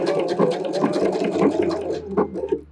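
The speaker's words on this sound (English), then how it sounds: "let's sew this belt loop" A sewing machine stitches a belt loop onto a clear raincoat, its needle chattering in a fast, even run close by before slowing near the end.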